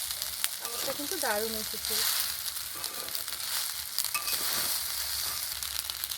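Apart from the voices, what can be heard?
stirring pasta with spices in a frying pan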